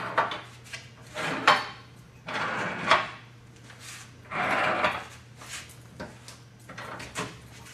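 Bar clamps being opened and slid along their bars over wood, a series of rough sliding scrapes and clunks in uneven bursts, close by and fairly loud, with no talk.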